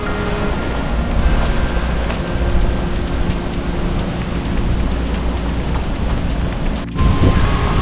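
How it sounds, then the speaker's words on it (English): Small waterfall beside a canal heard as a steady, loud broadband rush of falling water, continuous throughout, with wind buffeting the microphone and no talking. "Little waterfall down there."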